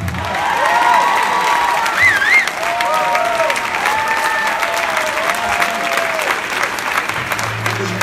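Concert audience applauding in a theatre for a singer at a live show at Teatro Nazionale, a dense, steady roar of clapping with some cheering, lasting throughout at high level.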